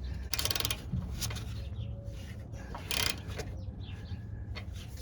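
A hand ratchet tightens a tension rod bolt on a 1988-97 Nissan D21 pickup, giving a couple of quick, close clicking bursts over a low background hum.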